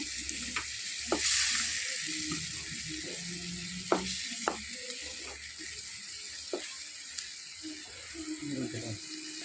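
Masala frying in oil in a pan for restaurant-style chicken tandoori tikka masala, a soft steady sizzle with scattered spoon clicks and a brief burst of running tap water, quiet and close, with some talking.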